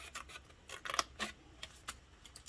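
Scissors snip through paper while a homemade pour-spout candy box is cut out by hand, several short crisp cuts at close range with brief pauses between them, no voices.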